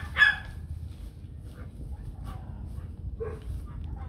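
White fluffy Bac Ha dog giving a single short bark early on, followed by faint yips and whimpers over a low rumbling background, moderately close with no clear talk.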